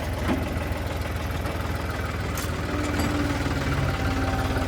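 A tractor engine idles during potato planting on a farm, its steady rapid knocking throb running continuously, close and loud, with no one speaking.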